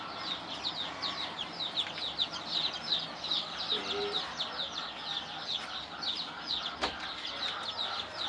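Many chicks cheeping densely and continuously at a poultry farm, a steady high chorus of rapid peeps close by, with faint background voices and a brief clunk near the end.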